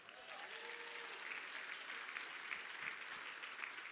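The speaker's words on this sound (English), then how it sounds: "Yes, round of applause." Applause from a seated audience at a talk, a quiet, continuous spread of many hands clapping at steady level, heard fairly distant and without talk over it.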